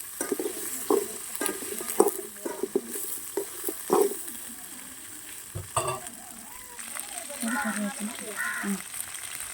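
Tomatoes and onions sauté in a pan with a gentle sizzle, while a spoon scrapes and knocks against the pan in uneven strokes. The sounds are close and moderate, with some quiet background voices.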